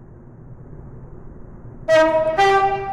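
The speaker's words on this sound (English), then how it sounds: "The train now approaching Platform 2 terminates here." A train pulling into Platform 2 at Llyn-by-the-Sea, where the service terminates, rumbles low and quiet, then sounds two loud, close horn blasts near the end, with no voices.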